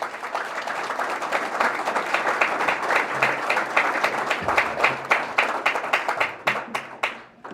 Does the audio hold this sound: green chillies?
no